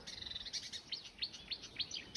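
A warbler nesting in a garden mimics a blue tit call: a series of about six quick, high chirping notes repeating in a steady rhythm, fairly faint and at some distance.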